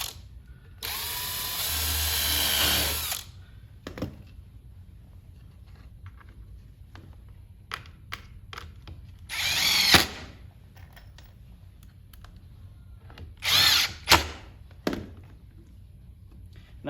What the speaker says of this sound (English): So pre-drill those holes again.